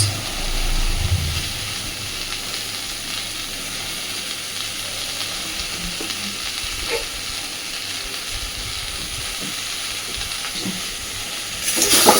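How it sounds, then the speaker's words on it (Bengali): Shrimp rubbed with salt and turmeric hits a pan of frying potato and pointed gourd, giving a steady, close sizzle that runs the whole way with a brief louder burst at the start and near the end. "এইবার আমি এর মধ্যে দিয়ে দিচ্ছি লবণ হলুদ মাখিয়ে নেওয়া চিংড়ি মাছ"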